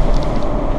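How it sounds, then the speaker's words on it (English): Rumbling road noise inside a moving 2018 Jayco Precept 31UL motorhome: a steady, dense low roar with faint light rattles and creaks on top, lasting under a second. "a little more ambient noise inside this coach when we're driving, a little more creaks and rattles"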